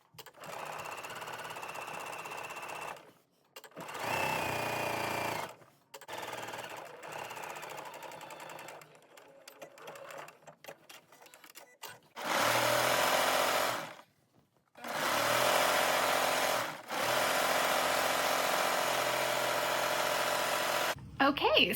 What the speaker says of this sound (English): now I'm going to fold over one more time, and I'm going to top stitch this down